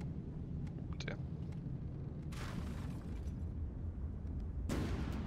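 Two heavy booming blasts from prototype smoke cannons in the game From The Depths, a couple of seconds apart, each with a broad rushing burst over a steady low rumble.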